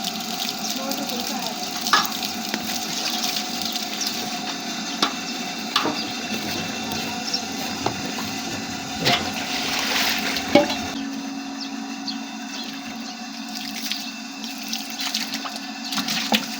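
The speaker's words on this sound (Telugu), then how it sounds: "ఈ మోటార్ తోటి నీళ్ళు పట్టాలంటే చాలా కష్టం." Water from a struggling household motor pump runs steadily into a metal vessel, a continuous mid-level splashing stream with occasional clinks, fading toward the end as the flow stops.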